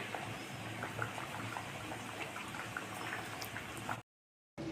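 Curry gravy with cabbage fritters and potatoes simmers and bubbles on the stove with a steady, soft sizzle. It breaks off into a brief silence near the end.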